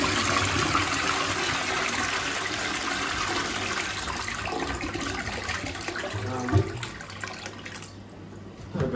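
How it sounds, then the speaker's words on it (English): A toilet flushes in a men's restroom, a loud rushing gush of water that churns for several seconds then drains and fades to a quieter trickle near the end. "Not a bad flush actually."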